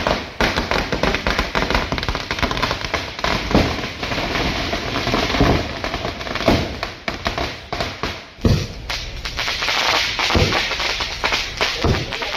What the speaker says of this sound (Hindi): पटाखों की है, और ये पटाखे फूट रहे हैं महाराष्ट्र के मुख्यमंत्री एकनाथ शिंदे के सरकारी बंगले के बाहर।